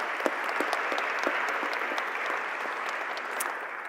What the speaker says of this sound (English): Please, another quick round of applause